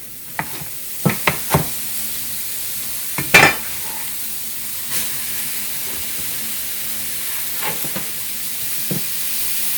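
Bacon crisps in a pan with a soft, continuous sizzle and hiss, broken by a few sharp clicks and scraping stirs early on, with no talking.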